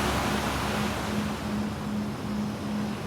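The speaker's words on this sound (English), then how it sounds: "enjoy the calming sounds of the ocean" Ocean waves wash in a soft, continuous rush of surf with faint wind, steady and moderately quiet, with no voices.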